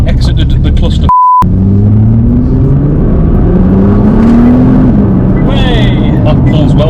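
Nissan GT-R R35, a standard high-mileage car, accelerating hard with a rising engine drone that climbs steadily through the gears, heard from inside the cabin, loud and continuous with a brief electronic beep early on.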